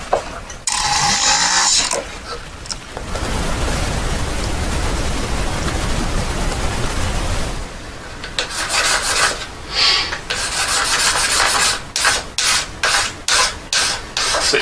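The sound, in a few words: smoothing file marks on a handmade diamond ring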